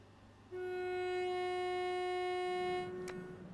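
A train horn in Train Sim World 4 on the East Coastway line sounds a single long, steady, deep foghorn-like blast of about two and a half seconds, then stops, leaving a low engine rumble beneath.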